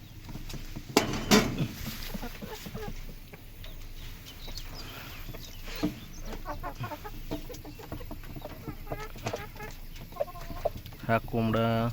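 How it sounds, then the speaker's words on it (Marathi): Country chickens being fed their morning feed on a farm: scattered clucks and short calls from several birds, moderately close, with pecking and faint clatter, and a person speaking at times. "हा कोंबडा"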